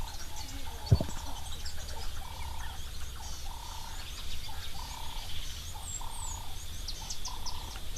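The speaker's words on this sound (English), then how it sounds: "you'll hear a bird calling, which I love to hear, which is a purple-crested taraku" A purple-crested turaco at a waterhole gives a rhythmic series of repeated calls in the background, steady and moderately distant, over a constant low ambient rumble, with one sharp knock near the start.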